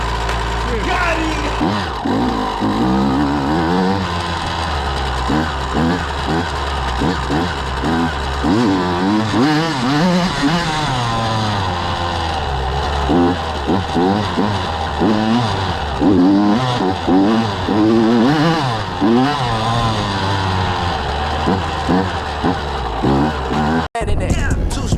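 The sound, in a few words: Yamaha YZ125 two-stroke dirt bike engine revving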